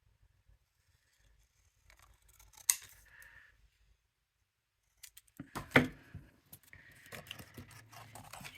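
Scissors snip through the paper lid of a pop-up tiered cake craft, quiet close clips and rustles coming in two bursts separated by a pause, with no talking.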